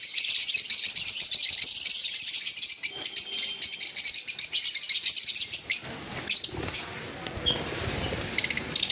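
Lutino Fischer's lovebirds chirp in a dense, continuous chorus of sharp high calls nearby, with clattering knocks and brief thumps breaking in toward the end.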